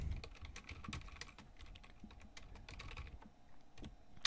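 A chmod command is typed in a Linux terminal while installing Connect2SSH: quiet, irregular keystrokes on a computer keyboard, close and soft, with no talking over them.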